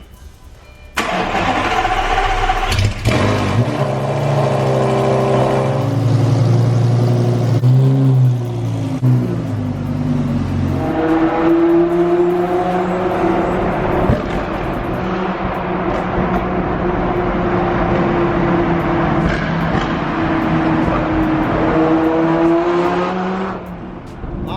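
Luxury SUV in the $50,000 range starting up and driving on the road, its engine rising and shifting through gears in a loud, close, continuous drone with tire and road noise.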